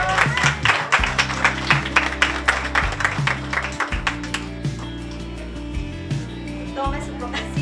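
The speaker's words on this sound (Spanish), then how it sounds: "¡Aplausos!" Scattered clapping from attendees at a housing handover ceremony sits under loud music with a heavy bass line, the applause thinning out as the music carries on.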